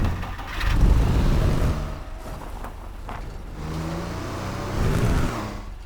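A supercar engine in the video game Teardown revs and roars in surges, with two loud bursts of acceleration separated by a quieter droning whir.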